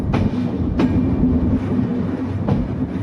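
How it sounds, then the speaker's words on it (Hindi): Passenger express train, 18574 Bhagat Ki Kothi–Visakhapatnam Express, heard from on board while running on rails, with a steady loud rumble and sharp clickety-clack wheel beats at rail joints. "तो फिलहाल ट्रेन पहुंच रही है इसके नेक्स्ट स्टॉपेज फुलेरा जंक्शन की तरफ"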